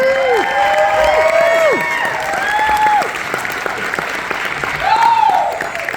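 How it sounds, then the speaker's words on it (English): An audience at a gala applauds office managers called up for awards, steady dense clapping with cheers and whoops rising over it, fairly loud and close. "So we need to give them a round of applause"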